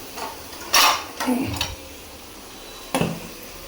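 A lid goes onto a cooking pot of tender young bottle gourd in a home kitchen, making a few sharp metallic clanks and a brief rattle, with quiet gaps between them.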